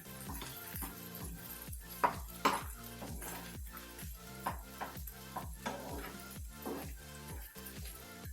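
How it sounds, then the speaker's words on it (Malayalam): A spoon works cooked rice through lemon rice in a pan, scraping in a steady rhythm of strokes about twice a second, close up with occasional sharper clinks against the pan. "നമുക്കിനി ഇതിനൊക്കെ ചോറ് വേവിച്ചും കൂടി ഇട്ടിട്ട് മിക്സ് ചെയ്യാം."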